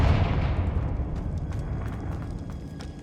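A Confringo blasting spell explodes in Hogwarts Legacy, a loud deep boom that rolls out and slowly decays over a few seconds, with faint crackling debris scattered through the tail.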